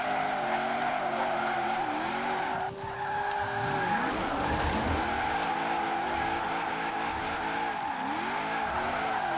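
In Forza Horizon 4, a Chevrolet Camaro IROC Z on drag tires revs its engine, rising and falling with gear changes and brief tire squeal, loud and close, with no one talking.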